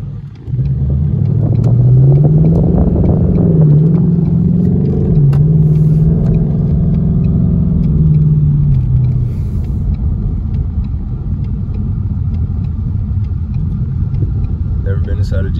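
A Ford Mustang GT's engine rumbles deeply close by and revs up and down in the first half before settling into a lower steady drone, with people talking over it.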